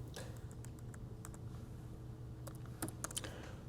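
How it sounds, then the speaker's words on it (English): Quiet typing on a computer keyboard while radio programming, with scattered single key taps and a short quick burst of clicks near the end over a low steady hum. "we learn how to type BARTOW"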